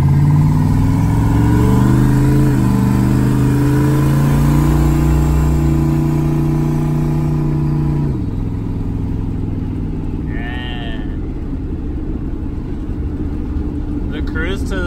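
An AMC Pacer car drives at night with a steady, loud engine drone that rises and falls in pitch as it shifts through gears, filling the whole stretch without pause.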